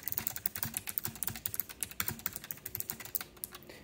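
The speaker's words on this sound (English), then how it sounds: "I'm going to type a little bit more just to give you direct comparison." Steady, brisk typing on a K3 keyboard with red optical switches, a dense run of light, close clicks and clacks at a fast, uneven rhythm with no voices.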